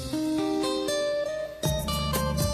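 Jazz music heard over HD digital radio with full, clear sound and bright highs, playing steadily with piano-like chords and bass, no voices.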